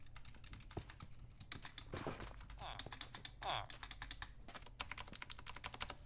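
A second computer keyboard is typed on in a steady, close patter of key taps, with someone talking over it at times.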